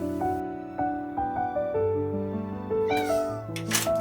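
A stray street cat meows a few times in drawn-out, rising and falling cries over a soft, steady tonal background.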